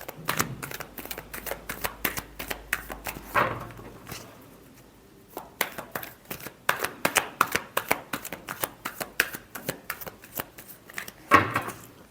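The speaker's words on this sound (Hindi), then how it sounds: "last shuffle" Tarot cards being shuffled by hand in repeated quick riffles and bridging flutters, close and crisp, with brief pauses between bursts.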